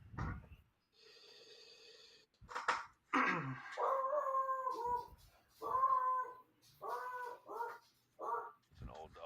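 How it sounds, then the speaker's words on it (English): An old dog lets out a series of drawn-out, wavering howls and whines, loud and close, in several separate bursts with brief pauses between them. "It's an old dog."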